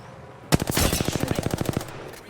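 A single close burst of automatic gunfire in Apex Legends, about fifteen rapid evenly spaced shots fired over roughly a second and a half, loud and sharp against quiet game ambience.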